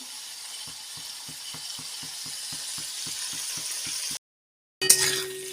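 Pumpkin frying in a pan over raised heat sizzles steadily, with regular rhythmic scraping or stirring ticks, then a brief gap and a sharp clatter at the end.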